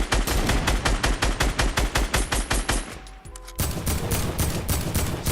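Rapid automatic gunfire in Fortnite Battle Royale, loud and rhythmic bursts with a short pause midway before the firing resumes.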